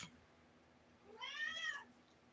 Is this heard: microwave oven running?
no